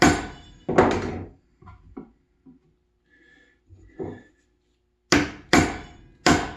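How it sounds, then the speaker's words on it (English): An inch-and-a-quarter chisel chops out a wood joint with sharp, close thunks: a pair of strikes, a few light taps in a quieter middle stretch, then three firm blows in quick succession. "I'm using an inch chisel"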